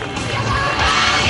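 A grass-track racing crowd at an international trophy meeting in Marmande roars and cheers as English rider Callum Walker is introduced. The sound is a dense, steady wash of crowd noise that swells slightly toward the end, with no clear speech.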